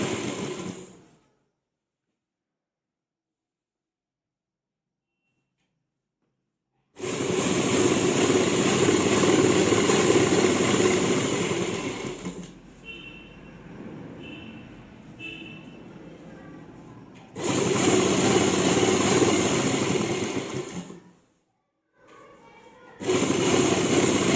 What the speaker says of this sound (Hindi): उल्टी साइड हम अच्छी तरह से सेट करने के बाद सिलाई लगाएंगे ताकि हमारी सिलाई जो नीचे नहीं निकल जाए।